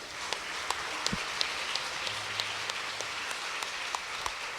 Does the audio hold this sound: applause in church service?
yes